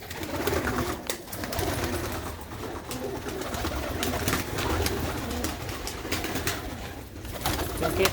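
Pigeons kept as a prized hobby flock in a Punjab village coo repeatedly and close by, soft throaty calls overlapping in a steady chorus with faint rustling and no talk over them.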